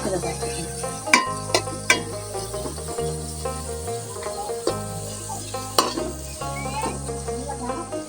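Ingredients fry in hot oil in a home kitchen pan, giving a continuous sizzle broken by several sharp utensil scrapes and taps. Music plays in the background.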